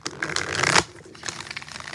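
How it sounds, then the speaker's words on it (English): Tarot cards being shuffled in a short riffling burst that builds and then cuts off sharply, followed by softer scattered card rustles, close and fairly quiet. "4 shuffles."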